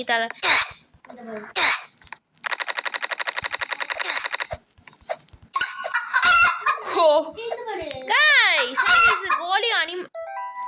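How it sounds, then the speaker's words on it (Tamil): Cartoonish chicken clucks and squawks from the Roblox-style obby game "Obby but you're cursed every 20 seconds," mixed with a rapid buzzing rattle and bursts of excited, high, sliding vocal sounds. "சத்தம் போட இந்த கோழி"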